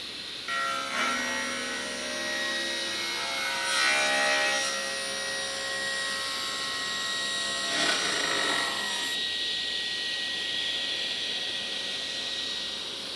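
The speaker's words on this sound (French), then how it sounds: "comment couper le flash d'une pièce sur la scie circulaire" A circular saw hums steadily as it cuts the flash off a plastic part, with a couple of rasping surges in the whine before it keeps running on.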